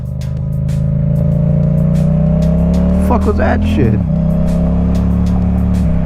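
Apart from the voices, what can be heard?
car passing close to motorcycle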